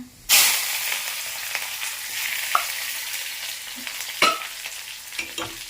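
Shallots and curry leaves drop into hot oil with a sudden sizzle, then a steady crackling fry continues, with occasional clinks and scrapes of stirring.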